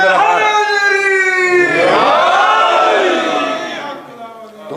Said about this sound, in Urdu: ذرا زور سے نعرے حیدری تو لگائیے